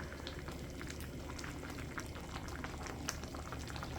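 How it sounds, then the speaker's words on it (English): Pumpkin sauce for red snapper simmers in a pan, a quiet, close bubbling with small irregular pops and splutters running continuously. "So letting our sauce, our pumpkin sauce, cook down."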